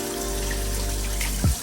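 Starchy rinse water from rice drains away in a kitchen, a soft steady trickle and pour over a low hum, ending in a brief louder slosh.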